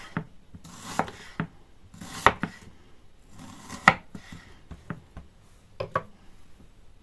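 Knife slicing an onion thinly into half-centimetre pieces on a board, giving a series of separate crisp cuts and taps at an uneven pace, close and clear with no talking.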